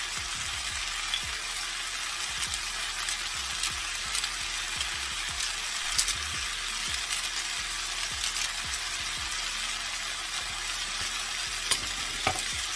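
Food sautéing in a pan, seasoned with Himalayan pink salt, gives a steady close frying sizzle with soft intermittent stirring scrapes and clicks throughout, and no voices.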